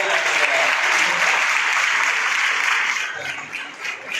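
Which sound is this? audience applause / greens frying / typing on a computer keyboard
audience applause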